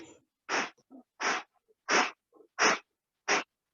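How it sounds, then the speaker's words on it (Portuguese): Forceful breathing exercise with hard exhales from the abdomen, five sharp, loud, evenly spaced breath bursts about two-thirds of a second apart, with softer inhales between them in a quiet room. "a gente inspira e na hora de exalar, a gente exala forte"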